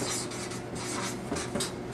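Marker or chalk writing on a classroom board, a steady scratchy rubbing with a few stroke-like swells, close and fairly quiet with no talking.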